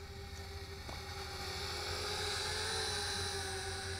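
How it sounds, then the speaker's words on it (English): Motors of a TK112W Skycity folding FPV camera drone spinning up for takeoff give a steady, high, buzzing whine with a thin tonal edge that holds close and constant throughout, with no voices. "And do automatic takeoff by pressing the button."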